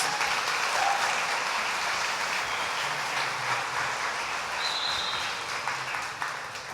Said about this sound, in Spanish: Un aplauso fuerte a ellos.